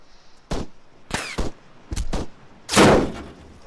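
Sharp bursts of gunfire hit a player in Arma 3, five or six loud close cracks in irregular clusters with ringing tails, the last one heavier and longer, with no talk.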